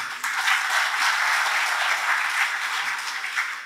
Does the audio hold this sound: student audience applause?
yes